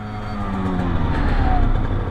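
A Yamaha TZR 50 small motorcycle engine revs steadily nearby, a loud, continuous buzzing drone with rising pitch and no break.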